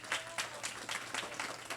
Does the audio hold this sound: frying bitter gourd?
no